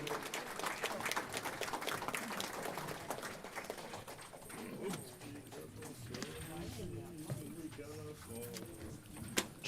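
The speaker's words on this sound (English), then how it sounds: "Another round of applause, ladies and gentlemen, from the hymn singing group" An audience at a talent show claps for a hymn singing group, a rapid scattered patter of hands mixed with murmuring voices, moderately distant and steady throughout.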